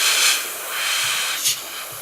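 Airbrush spraying a thin first coat of Hataka Red Line paint: a soft airy hiss in brief pulses, fairly quiet and close, with no talking.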